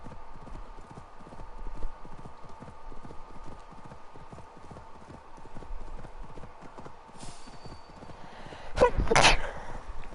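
A single sharp sneeze bursts out near the end over a steady, rhythmic clip-clop of horse hooves from the game Assassin's Creed Valhalla, standing out loudly against the trotting.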